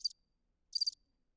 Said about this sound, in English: Why are you doing crickets at me?